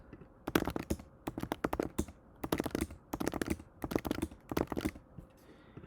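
Close, quiet typing on a computer keyboard while entering a report into a web form, with bursts of rapid key clicks in several runs and short pauses between them.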